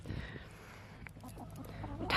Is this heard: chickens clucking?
yes